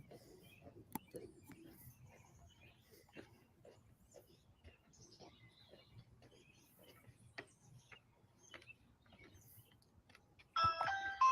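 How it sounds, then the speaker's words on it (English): After quiet footsteps and faint ticking, a doorbell chime rings out near the end, clear and electronic. "We ring the doorbell."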